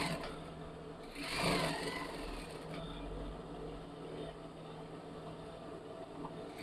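A sewing machine runs steadily while stitching a seam on a woman's blouse, a soft continuous mechanical whir with a brief louder burst near the start, heard close and fairly quiet.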